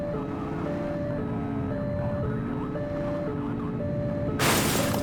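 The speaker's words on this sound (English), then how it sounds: "I had the sirens on though, so you should be getting out of my way." A police car siren wails in The Precinct video game, a steady repeating two-tone pattern over engine rumble, loud and close, ending in a sudden burst of crash-like noise.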